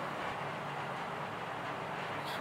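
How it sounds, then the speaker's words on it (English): Loud, continuous rumbling roar of a train passing close by, with a dense steady rattle and no talking. "Is that a train?"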